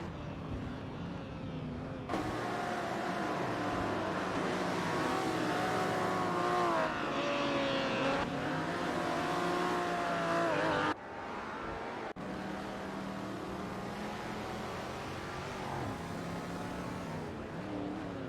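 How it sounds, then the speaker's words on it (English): Vintage supercars racing at Spa in a racing simulator, engines droning loud and steady with shifting pitch as cars rev and pass, a brief drop midway, no talk. "We're currently watching an exciting race in the racing simulator with artificial intelligence drivers"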